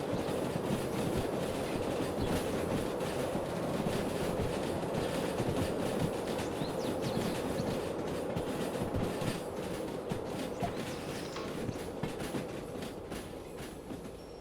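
Long freight train cars roll steadily past in the Derail Valley railway game, a continuous loud rumble with rhythmic clickety-clack of wheels over rail joints, sustained throughout with no talking.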